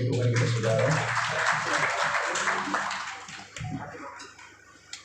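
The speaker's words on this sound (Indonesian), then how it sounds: "boleh berikan tepuk tangan yang meriah bagi Tuhan kita saudara" Church congregation at a hotel service claps in a dense, loud burst that fades over several seconds, with voices mixed in beneath the clapping.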